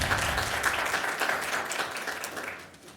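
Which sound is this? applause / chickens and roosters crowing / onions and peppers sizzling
applause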